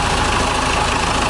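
A tractor engine in a Chernobyl-set video game runs at a steady, dense, rumbling drone, loud and close, with no speech and no change in pitch over the short stretch.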